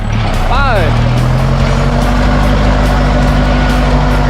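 A Kubota L47 tractor drags a 26-inch disc plough through wooded ground, its engine droning loudly and steadily throughout, with a brief rising whine near the start.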